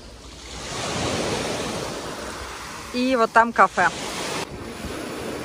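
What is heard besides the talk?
waves on a beach at Karaburun near Izmir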